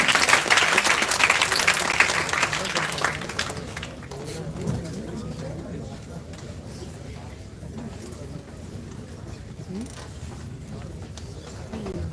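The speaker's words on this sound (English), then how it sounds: "a good round of applause, big round of applause for the wonderful" Audience applause at the SRM Arcade inauguration, loud and dense for about four seconds before thinning out, followed by scattered voices and bird coos in the background.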